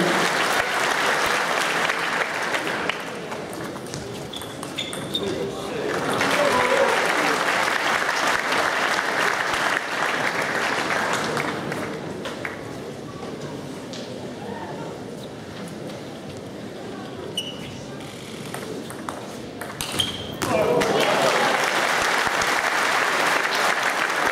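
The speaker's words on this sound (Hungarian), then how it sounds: "nagy tapsot kérünk" Long, steady applause from the crowd at a table tennis gala, rising and falling in waves over more than twenty seconds, with a voice talking under it at times.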